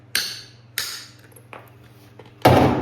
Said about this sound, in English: So I'm just hitting this on the floor with a hammer.